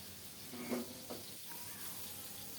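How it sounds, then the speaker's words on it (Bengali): Sliced flat beans, green chillies and chopped coriander leaves stir-fry in a pan with a faint, steady sizzle and a few soft stirring scrapes, heard from nearby but quietly. "আবারও দুই এক মিনিট ভালো করে নেড়ে চেড়ে ভেজে নেব"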